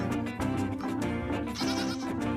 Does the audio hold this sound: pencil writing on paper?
no